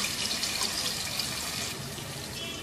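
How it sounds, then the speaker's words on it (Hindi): A cup of water splashes into a pot of chicken curry with tomatoes, a close, continuous gush that eases slightly toward the end. "1 कप पानी का शामिल कर देना है।"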